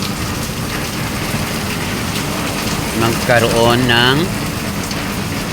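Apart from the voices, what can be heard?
rain from Typhoon Enteng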